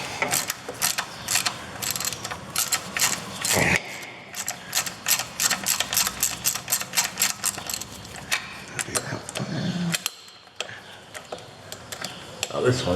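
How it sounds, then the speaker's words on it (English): Rapid ratchet wrench clicks while removing two 11 mm nuts on a Citroen C15 drive shaft intermediate bearing, with bursts of quick ticking repeated close up and a brief pause midway. "Let's remove these two nuts now."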